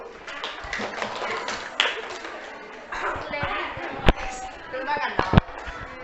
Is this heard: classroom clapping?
yes